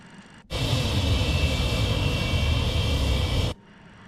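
Loud, steady engine roar of an MD-83 airliner's rear-mounted jets spooling up for the takeoff roll in a flight simulator, starting abruptly after a brief quiet lead-in and holding constant for about three seconds before cutting off.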